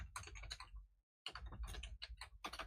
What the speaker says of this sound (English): just typing back to you, Casey.